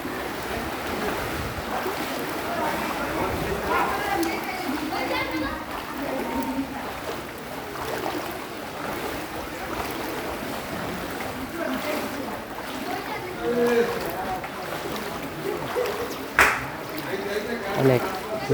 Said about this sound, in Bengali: আমি হাঁটতে পারতাছি না পানির জন্য